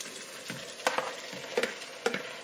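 Chopped spinach is stirred into a simmering pot of Nigerian efo riro vegetable soup, giving a soft wet sizzle with a few distinct scraping and clinking stirs at a moderate, fairly quiet level.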